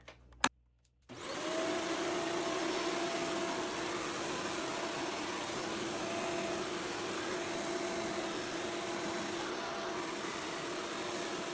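A Shark vacuum cleaner set to hard-floor mode switches on after a click and runs steadily on a tile floor picking up pet hair, a loud, continuous whooshing motor roar close by with no talking.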